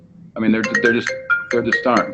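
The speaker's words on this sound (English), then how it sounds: "Yep, that's my phone rang on my computer." A phone ringtone plays through a computer, a repeating melodic electronic tone running under close conversational talk.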